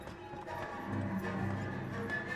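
A horse-drawn carriage clip-clops along as a sound effect, the steady rhythm of hooves rolling on beneath a faint background bed.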